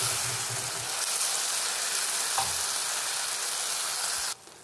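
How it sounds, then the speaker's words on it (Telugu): Tomato puree frying in hot oil with ginger garlic paste gives a steady, fairly quiet sizzle, with a faint stirring scrape partway through before cutting off near the end. "టమాటా పూరీని 1 నిమిషం ఫ్రై చేస్తామండి."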